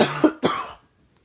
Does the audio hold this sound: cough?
yes